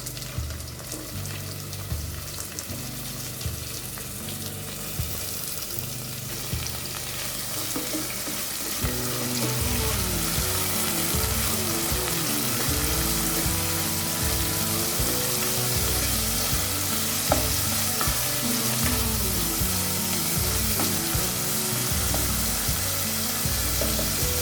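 Onions and tomatoes frying in a pan, a steady sizzle that thickens and grows louder partway through as the tomatoes go in, with clinks and scraping of stirring throughout and no talking.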